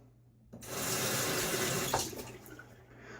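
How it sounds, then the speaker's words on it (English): Water runs from a tap and splashes onto a face close by for a couple of seconds before shaving, starting abruptly after a moment of silence. "I threw some water on my face right before we lather up"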